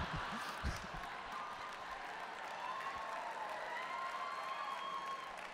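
An audience at a live comedy show applauds steadily and evenly, a dense wash of clapping that fills the clip from start to finish with a brief louder swell near the beginning.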